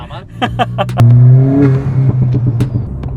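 Stage 3 Ford Fiesta ST running over 340 bhp on a turbo, accelerating hard with a loud engine drone and a rising whistle, then a chuffing turbo flutter as the throttle eases; a voice talks over it early on.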